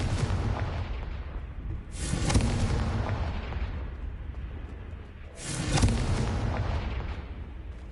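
Two heavy explosive booms from the Confringo blasting spell in a video game, a few seconds apart, each with a sharp crack and a rumbling, whooshing tail, and no voices over them.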